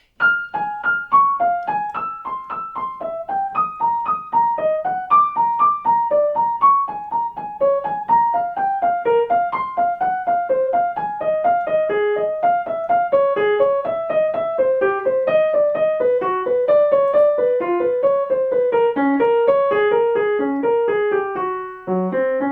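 Solo piano plays a fast sextuplet passage from Rachmaninoff's Prelude Op. 32 No. 13, a continuous run of evenly grouped notes winding downward in pitch over about twenty seconds, close and clear.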